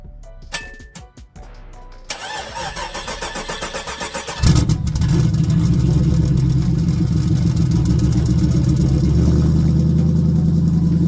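A car engine cold-starting on E85 fuel: a few cranking whirs, then the starter churns rhythmically before the engine catches with a loud bark and settles into a steady, rough idle, close up with no talking.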